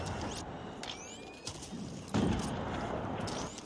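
Enemy gunfire from cargo in the Warzone video game, a few sharp distant shots and short bursts over a low steady game ambience, with a louder crack near the end.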